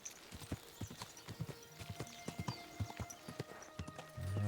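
Horse hooves clip-clop in a steady, loud walking rhythm in the medieval game Kingdom Come Deliverance 2, close and prominent, with a brief snort or whinny-like swell at the end.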